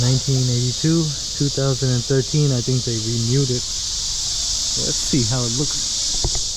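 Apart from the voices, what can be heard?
crickets chirping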